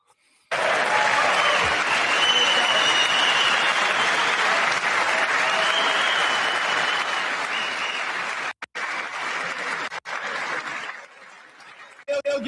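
Sustained, loud crowd applause in a large chamber during the State of the Union address, steady for about eight seconds before breaking up into choppier bursts and fading.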